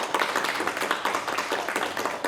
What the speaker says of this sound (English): Let's give all those folks a round of applause.